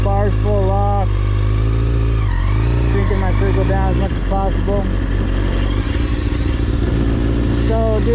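A motorcycle crawls through tight, slow full-lock circles with the clutch slipped and the rear brake dragging. Its low, steady engine drone rumbles close throughout as someone talks over it.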